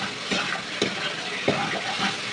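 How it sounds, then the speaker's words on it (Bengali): Eggs are stir-fried in a spicy masala, a close, continuous sizzle punctuated by a few sharp scrapes of the spoon against the pan. "ডিমগুলো দিয়ে মশলাটা খুব সুন্দরভাবে কষিয়ে নিচ্ছি"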